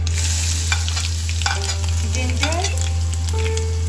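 Ginger is added to hot oil with crackled methi, mustard, cumin and ajwain seeds and asafoetida, giving a steady close sizzle with small pops and clinks of stirring, with no talk.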